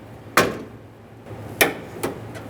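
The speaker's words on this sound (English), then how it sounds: "I'm going to use a flathead screwdriver and just pop these clips off." Three sharp snapping clicks as a flathead screwdriver pops plastic clips off the tailgate latch rods on a 2011-2018 Ram 2500, spaced irregularly and close by over a quiet background.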